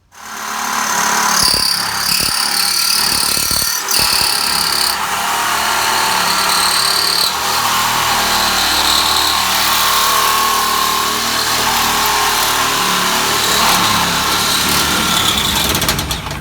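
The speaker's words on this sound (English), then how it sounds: "Cutting through all the welds there." Power tool cutting through welds on metal, a loud continuous high-pitched grinding whine with sharp bursts near the start, running steadily throughout without talk.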